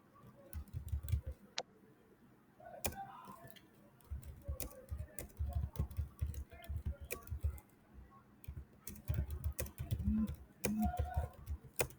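Fast, uneven keystrokes from a computer keyboard typed during a live online session, a steady close patter of clicks with brief pauses, quiet and without talk.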